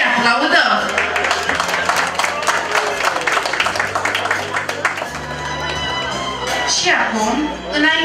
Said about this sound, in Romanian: Bineînțeles, înainte să plecăm, pe invitați să-i aplaudăm